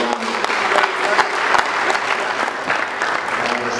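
A mentoring event audience bursts into a round of applause, steady and dense clapping from a room full of people lasting throughout, fairly close and with faint voices mixed in.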